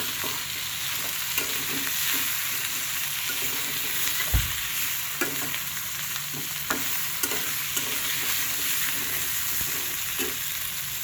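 Chicken roast sizzles steadily in a pan with homemade chaat masala and spices, while a spoon stirs and scrapes at irregular intervals, close and continuous, with no talk.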